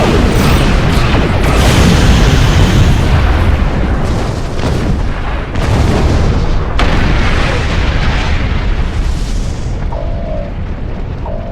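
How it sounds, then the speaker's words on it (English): Starship weapons and torpedoes firing in a Star Trek Online space battle, a loud, continuous roar of booming blasts and rumbling explosions, with a few sharper bursts breaking through the dense noise. "Fire more torpedoes."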